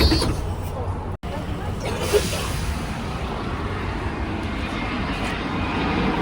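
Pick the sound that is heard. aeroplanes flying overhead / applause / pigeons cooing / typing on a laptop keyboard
aeroplanes flying overhead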